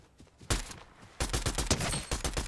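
Bursts of gunfire in the battle royale video game Fortnite: a single loud shot, then a rapid, dense volley of repeated shots close by with no talking.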